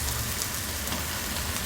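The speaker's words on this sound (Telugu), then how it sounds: "వెల్లుల్లి రబ్బలు కూడా వేసి వేయించుకోవాలి" Tamarind and garlic cloves frying in a pan for drumstick-leaf chutney, a close, even, rain-like sizzle crackling steadily throughout with no talk.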